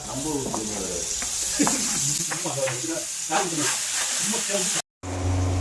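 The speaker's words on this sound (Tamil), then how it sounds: "இப்போ நம்ம வெட்டி வச்சிருக்கிற தக்காளி வெஜிடபிள் சேர்த்து ஆட் பண்ணிக்கோங்க" Chopped tomatoes drop into a pan of sizzling ginger paste for a fish curry, setting off a loud, steady frying hiss with scraping stirs throughout and a brief dropout near the end; a voice talks over the cooking.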